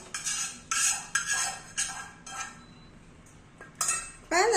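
Sweet paniyaram batter with coconut pieces being mixed in a bowl with a spoon, heard as a series of close metallic scrapes and clinks in uneven bursts, with short pauses between strokes and no talking.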